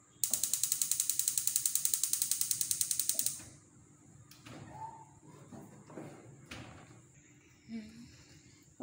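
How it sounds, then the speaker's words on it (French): A kitchen oven being switched on gives a rapid run of loud ratcheting clicks from the dial for about three seconds, then quieter knocks and handling sounds, with a voice speaking briefly afterward. "Je vais allumer mon four."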